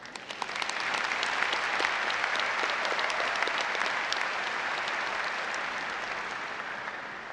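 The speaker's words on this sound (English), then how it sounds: "Just round of applause." Applause from the audience at a university graduation recognition ceremony for the College of Education and Behavioral Sciences, a broad sustained clapping that builds quickly and slowly fades, with no speech over it.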